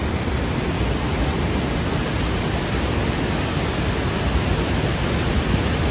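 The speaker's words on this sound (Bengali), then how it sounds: "কিভাবে পানি পড়ছে এটাকে" Great Falls waterfall with water pouring down, a loud, even, unbroken roar of rushing water filling the whole stretch, close and steady, with no voices over it.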